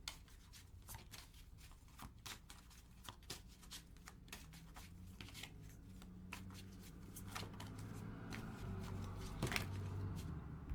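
Tarot cards are shuffled by hand during a reading, with a close, continuous run of soft riffling and rubbing flicks in uneven bursts over a faint low background hum.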